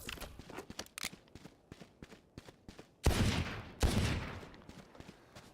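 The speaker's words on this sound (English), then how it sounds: "Hear the guns in the background" Gunfire from the video game Valorant during a pause in a collegiate playoff match: a string of sharp, evenly spaced shots, then two heavier sustained bursts, set back at moderate volume with no voices.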